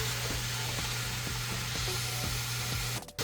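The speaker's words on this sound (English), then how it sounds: "all of the onions are pretty much coated now. And I'm just going to slowly fry these, just kind of slow and at medium heat until they start to caramelize" Onions fry in salted butter at medium heat with a steady, soft sizzle and hiss. Faint regular ticks sound through it before the sizzle cuts off near the end.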